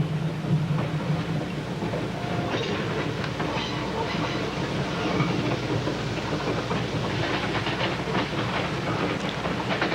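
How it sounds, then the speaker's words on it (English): A mixed train near Guelph rumbles along the rails with a steady clattering rhythm and a continuous loud roar, passing close by without pause. "5185 is going to take the mixed train up to Guelph behind us."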